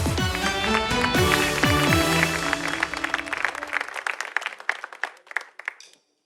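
Audience applause for a singer coming onstage, a dense burst of clapping at first under a sung or played melody, then thinning into scattered individual claps that fade out.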